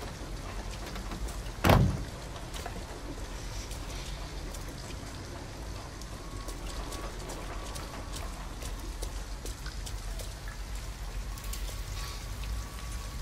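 Steady rain pours down in the video game Detroit Become Human, a dense, continuous hiss of drops with scattered louder splats. A single sharp thud or knock lands early on, and no one speaks.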